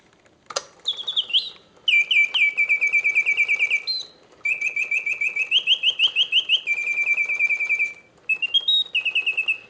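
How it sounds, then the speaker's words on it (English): A vintage Reuge double singing bird cage automaton, with wood and leather bellows and dated March 1969, plays loud, close mechanical birdsong: long runs of rapid whistled trills and warbles broken by brief pauses, with faint clicks from the movement. "just finished this fascinating Reuge double singing bird cage"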